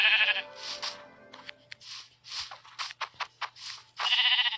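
Sheep bleat in the Minecraft video game: several close, wavering bleats at the start and end, with softer clicks and muffled game sounds between them.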